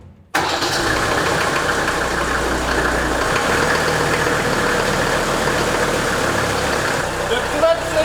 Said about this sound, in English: Let's see if the Unimog starts.